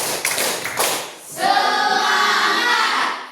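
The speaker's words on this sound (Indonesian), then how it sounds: "tepuk semangat." Coding-class students repeat their rhythmic spirit clap: several crisp, loud group claps in time, a short pause, then a long chorus of many voices chanting together.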